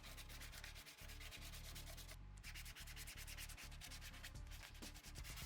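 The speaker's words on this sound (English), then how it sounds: "I can start using that same sandpaper to go over any of the shiny PLA" Sandpaper rubs steadily over shiny 3D-printed PLA plastic, a continuous dense scratching with regular back-and-forth strokes, close and loud throughout with a brief pause in the middle.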